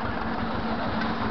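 Ursus C-360 tractor engine running steadily during meadow mowing, a continuous droning idle-like rumble with a steady low hum, close and constant throughout, no voices.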